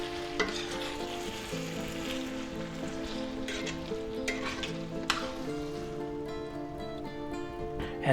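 A spaghetti frittata mixture with smoked ham is stirred in a frying pan over medium-low heat, giving a steady close sizzle broken by scraping spatula strokes, with a low musical tone running underneath.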